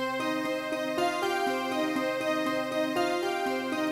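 Solo piano playing an easy arrangement of a pop song: a steady repeating eight-note pattern low in the left hand, with chords sustained above, even and moderately loud.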